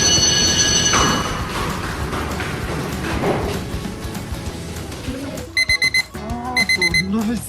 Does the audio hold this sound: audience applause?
no